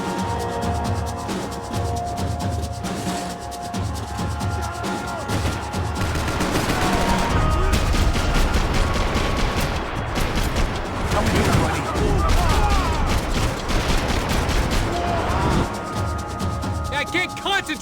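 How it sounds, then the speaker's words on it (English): Gunfire in a Max Payne 3 car chase, a dense, sustained fusillade of shots and bullets whizzing past, loud and continuous, with voices talking over the barrage. "I can't concentrate with bullets whizzing past my head!"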